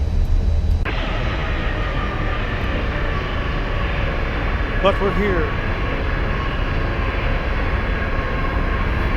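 Steady airliner engine drone from a jetBlue Embraer E195 in the X-Plane 11 flight simulator, a continuous even hum throughout with someone briefly speaking over it.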